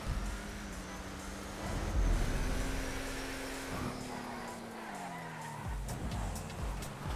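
A car drifting in a racing video game, with a steady engine drone and long tire squeals and skids rising and shifting in pitch over continuous road noise.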